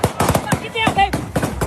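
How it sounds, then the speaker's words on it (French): Series of gunshots in a news report from a Kansas City championship celebration, rapid irregular cracks in quick succession with a brief wail in the middle, mixed with crowd noise. "une série de coups de feu"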